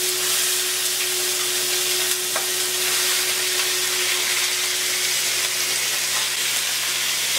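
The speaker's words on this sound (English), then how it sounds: "You want to hear that nice sizzle there." Steady, dense sizzling of hot oil in a pan, continuous and close, with a faint tonal hum underneath and no talking.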